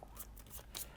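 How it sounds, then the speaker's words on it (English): A deck of board game cards is shuffled close up, with quick soft riffles and slaps over about a second and no talk. "I'm shuffling because my deck ran out"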